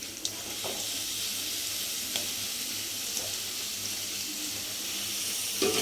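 Mutton pieces dropped into a hot pan for a village-style mutton kulambu, hissing and sizzling steadily with faint clinks of stirring throughout.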